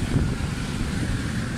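Steady wind rushes and rumbles against the microphone, a broad continuous roar with no voices.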